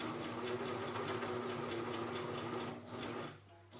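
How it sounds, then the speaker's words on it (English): A sewing machine top stitches around a fabric face mask and its nose piece, running in a fast, even rhythmic chatter close by before slowing and stopping near the end. "I'm going to top stitch all the way around and sew the nose piece in place."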